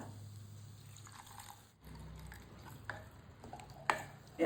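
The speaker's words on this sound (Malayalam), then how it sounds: "ഇതിലേക്ക് കുറച്ച് വെള്ളം ഒഴിച്ചു കൊടുക്കുക" Water splashes and pours into a pan of squid being roasted with coconut, faint and close, with a low hiss and a few soft clinks near the end.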